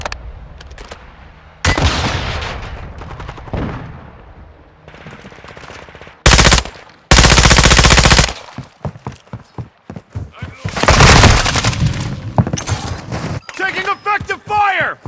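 Gunfire in Call of Duty Modern Warfare II: loud bursts of machine-gun fire and single shots come in irregular volleys, broken by short gaps, with voices calling out between them.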